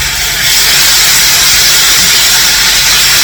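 Steam hisses loudly and steadily from a hot pan while pepper steak fries, a dense continuous sizzle with no voices.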